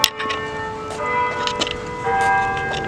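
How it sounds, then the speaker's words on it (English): Church bells ring out in a steady, repeated peal, their resonant strikes overlapping and sustaining loudly with no one speaking. "Weird time for the bells to be ringing"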